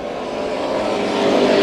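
A super stock race car roars past on a speedway at night, a loud continuous engine drone that builds steadily over the short stretch, with no voices.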